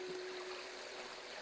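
Water trickles and streams steadily while someone fetches water, a continuous soft hiss of flowing liquid with no pause.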